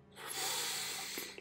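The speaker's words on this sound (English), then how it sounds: "Breathing in through your nose if possible." A slow, steady inhale through the nose during a sleep hypnosis breathing exercise, close-miked in whispery ASMR style: one long, airy, hissing breath swells and holds for most of a second and a half, with no talking.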